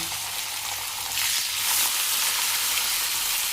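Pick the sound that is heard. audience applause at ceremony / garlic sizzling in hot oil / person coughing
garlic sizzling in hot oil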